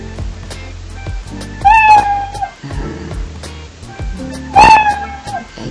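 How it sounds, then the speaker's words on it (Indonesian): Cat meow sound effect in a Scratch 3.0 project plays twice, short rising-then-falling meows a few seconds apart, over a busy background with someone speaking. "ada perintah memainkan suara meong sampai selesai ketika ada kondisi tertentu"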